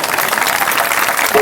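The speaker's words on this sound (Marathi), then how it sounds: "तुम्ही टाळ्या वाजवा" Audience applause at a kirtan, a Marathi devotional performance with pakhawaj accompaniment, steady dense clapping filling the whole short stretch at even loudness.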